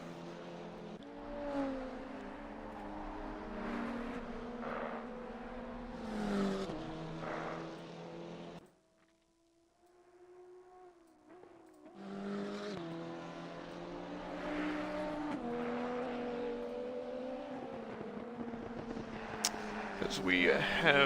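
Race cars lapping during free practice at Watkins Glen, a sustained engine drone rising and falling as cars pass, dropping to near quiet midway, with a voice talking over much of it.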